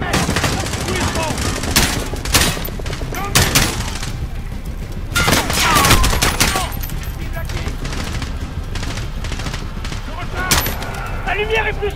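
Machine gun fire in the Call of Duty Modern Warfare video game campaign: loud, sustained automatic bursts and scattered gunshots with heavier surges, continuous throughout, while soldiers shout in French over the fighting.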